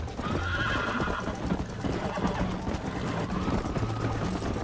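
A horse in Red Dead Redemption on PC neighs and whinnies loudly over a steady clip-clop of hooves as it runs, with a faint voice underneath.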